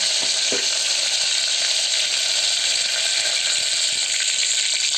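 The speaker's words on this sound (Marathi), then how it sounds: "तर मी आता लसूण टाकते, कढीपत्ता," Garlic and curry leaves hit hot oil in a pan, giving a loud, steady crackling sizzle with small spits and pops throughout, close and unbroken.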